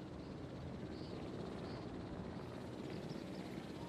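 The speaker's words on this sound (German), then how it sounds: "Das sind zwei Hubschrauber." Helicopters in the video game Jurassic World Evolution, a steady low rotor drone and broad rumble held at an even level throughout, with no talk.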